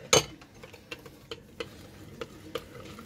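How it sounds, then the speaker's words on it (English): Food being stirred in a pot with a utensil, a run of light, close clinks and scrapes spaced irregularly over a faint background hiss. "Okay, now we're gonna stir it."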